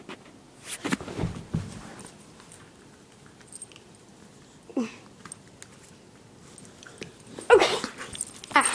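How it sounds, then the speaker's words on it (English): A dog whimpers and gives short yips in scattered bursts, close by, with quiet pauses between the sounds and no talking. "He's a good doggy."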